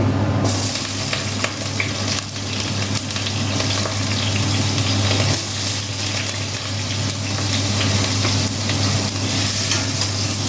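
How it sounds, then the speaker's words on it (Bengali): Potatoes fry in hot oil with a loud, close, continuous sizzle and a steady low hum underneath, with occasional stirring scrapes. "তেল গরম হয়ে গেছে এবার আমি আগে আলুগুলো দিচ্ছি"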